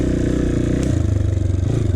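A dirt bike engine running at low RPM on a wooded trail, its steady close putter dropping in pitch as the rider shifts from first gear up to second.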